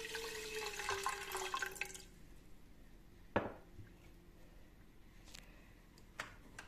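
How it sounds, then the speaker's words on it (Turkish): Water pours from a tap into a pot of about a tea glass of rice for lebeniye soup, a brief splashing rush followed by a few faint drips and clinks in a quiet kitchen. "Üzerine suyumuzu ekleyelim."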